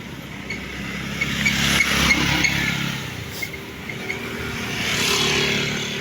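Several cars and motorcycles pass on a busy road in the Philippines, heard from a bicycle, with a steady traffic roar that swells with each nearer vehicle.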